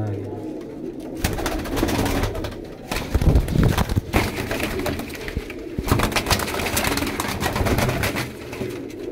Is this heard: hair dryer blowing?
no